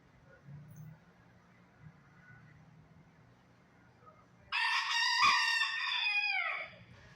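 A lost rooster crows once, loud and close, inside a quiet laundromat after a stretch of low background hum and faint voices.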